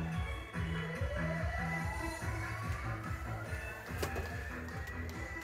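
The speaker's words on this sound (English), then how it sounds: "the sound like wheel is the sound that we radiated. It's the chirp signal." An acoustic chirp signal radiated during a sea experiment rises steadily in pitch as a faint sweeping tone, heard under music from a nearby restaurant with rhythmic low beats.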